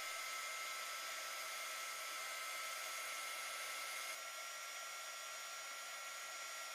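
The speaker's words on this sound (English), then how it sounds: "I'll be using the heat gun with a 300-degree solder." Heat gun blowing on rhinestone bracelet settings to melt 300-degree solder, a steady, even hiss-and-whir of airflow, close and constant throughout with a slight drop in tone partway.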